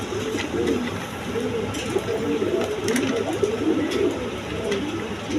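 German beauty pigeons at a farm coo in soft, repeated low murmurs, close and continuous, with scattered sharper sounds and background noise.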